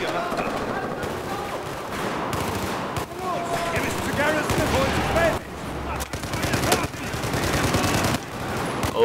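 Battlefield 4 gunfire: dense, loud machine-gun bursts and rapid rifle shots crackle almost continuously for the whole stretch, with sporadic heavier reports and faint voices mixed in beneath the firing.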